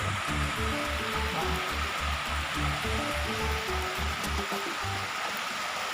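Pha Tat waterfall in Srinagarind Dam National Park pours with a loud, steady wash of broadband rushing water. A low, rhythmic pulsing hum runs beneath it for most of the stretch.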